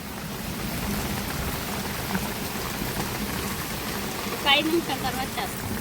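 Steady rain falls on a thatched-hut village setting, a continuous dense patter throughout, with a brief louder splash or voice-like burst near the end.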